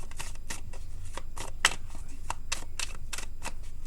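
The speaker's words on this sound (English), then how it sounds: "Now I pull you an advice card if they want to come out." Close, crisp riffling and snapping of a deck of advice cards being shuffled by hand, a rapid run of irregular card flicks with no talk over them.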